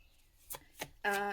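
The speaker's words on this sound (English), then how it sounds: "It's these cards I'm shuffling right now. They're called the Angel Tarot." Angel Tarot cards being shuffled by hand close up, a couple of short riffling bursts followed by a louder, steadier ruffle of cards.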